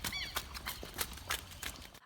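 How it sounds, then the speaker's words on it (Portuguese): A foal neighs repeatedly while being separated from its mother during weaning, loud whinnies with a tremulous pitch, interspersed with hoof clops and other horse sounds nearby, alone without talk. "Já esse outro relincha, na tentativa de ser correspondido."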